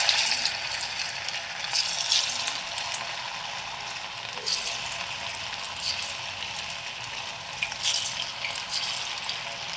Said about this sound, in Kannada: ಕಾದಿರೋ ಎಣ್ಣೆಗೆ ಹಾಕಿಬಿಡಿ